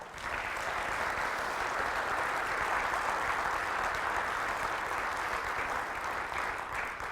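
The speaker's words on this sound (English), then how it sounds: "How about a round of applause for the Bison Broadcasting?" A large audience at a school district address gives steady, loud applause for a student broadcasting group, sustained evenly for several seconds with no talk over it.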